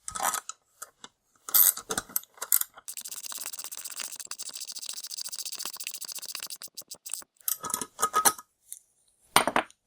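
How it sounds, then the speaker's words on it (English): A ratcheting wrench tightens a nut on the threaded rod of a throttle pedal, giving rapid close clicking runs, a long sustained stretch of ratchet clicks in the middle, and scattered short bursts with brief pauses. "I'm going to cheat a little bit and I'm going to use"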